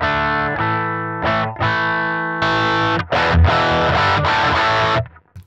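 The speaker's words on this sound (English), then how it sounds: "Turning it into a fairly nasty, gnarly Marshall tone." Electric guitar run through a NUX Trident drive pedal set for gnarly Marshall-style distortion, playing loud, saturated sustained chords in short bursts with abrupt stops, no voices.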